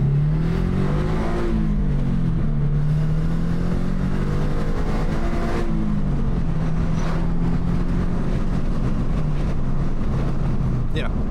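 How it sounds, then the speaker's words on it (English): Near-stock car exhaust in its quiet mode, a steady low engine drone with gentle rises and falls in revs throughout, some wind noise, no talk. "it sounds basically like a stock exhaust for this car"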